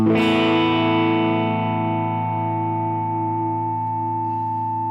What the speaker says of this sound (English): It's really cool to have a reverb to be exploded by fuzz.